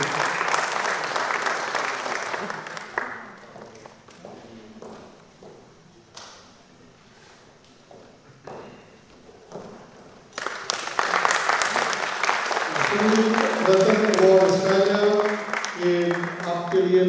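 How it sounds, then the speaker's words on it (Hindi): An audience at a felicitation event and poetry mushaira in Australia applauds as a guest comes on stage, a loud sustained round of clapping that fades and then swells again, with someone speaking over the latter part. "ये आरिफ सालिक साहब का भी इस्तेमाल कीजिए जोरदार तालियों के साथ स्टेज पर।"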